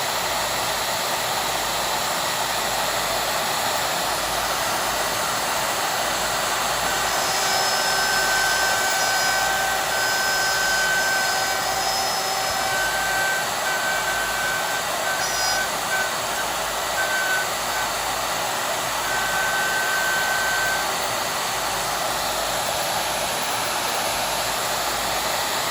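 A Shaper Origin handheld CNC router runs continuously while cutting a hole, a steady loud whine with thin tonal lines drifting in and out over a broad hissing roar, and no talking.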